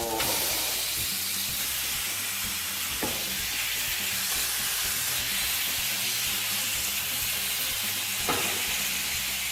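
Chicken pieces frying in a pan, a steady loud sizzle and hiss throughout with a few brief clatters as pieces go in.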